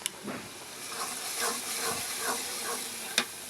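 Water poured into a hot pan of fried, browned onions on a gas stove gives a steady, faint hissing sizzle with a few small crackles and clinks.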